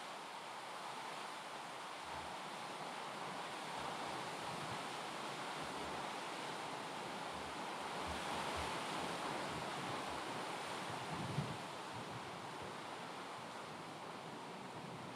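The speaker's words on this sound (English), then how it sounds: "It is so windy." Strong wind blows straight into the microphone outdoors, a steady, fairly quiet roar with soft low buffeting thumps and no talk.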